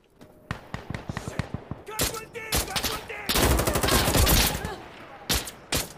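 Gunfire in the tactical shooter game Insurgency Sandstorm, loud rapid bursts and single shots followed by a sustained automatic volley, with voices talking over the shooting.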